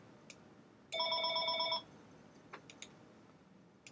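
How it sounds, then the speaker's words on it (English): A telephone rings once with a bright, warbling electronic trill lasting under a second, followed by a few soft clicks in a quiet room. "that was the phone ringing"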